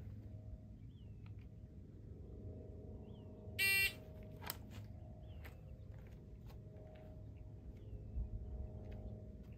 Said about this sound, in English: We'll get started here on the buzzer.